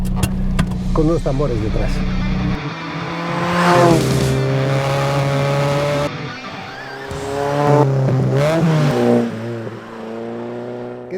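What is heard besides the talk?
engine of a classic Ford Fiesta XR2 being driven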